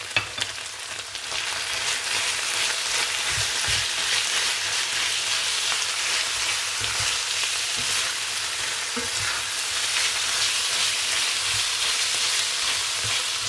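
Chicken and onions sizzle loudly in oil in a pan, a dense, continuous crackle broken by occasional soft scrapes and knocks as the pieces are stirred and mixed.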